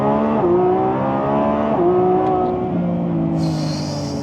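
A V12 car accelerating hard, its loud, close engine climbing in pitch through several gear changes, each shift marked by a brief drop before the howl rises again, with a high whine appearing near the end.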